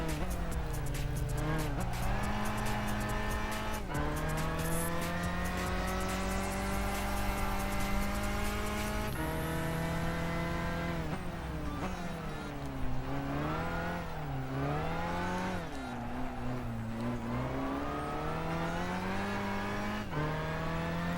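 Racing car in Gran Turismo 5, a World Classic Car Championship event, drives continuously with a loud, steady engine whine that rises and falls through gear changes, alongside repeated tire squeals and skids.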